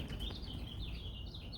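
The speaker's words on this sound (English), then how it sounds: "I got birds up there trying to come back" Birds chirping up on a rooftop, a few thin, high, warbling calls at moderate distance over a low steady background rumble.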